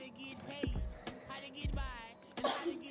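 A person sneezes, a short sharp burst near the end after voiced, throaty sounds, with talk around it indoors.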